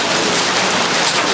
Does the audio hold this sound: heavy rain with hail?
yes